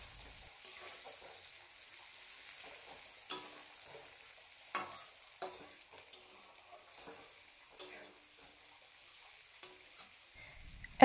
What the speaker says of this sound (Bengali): দু তিনটে কাঁচা লঙ্কা দিয়ে দিলাম অল্প চিড়ে, এর মধ্যে দিয়ে আবার একটুক্ষণ ভাজবো এটাকে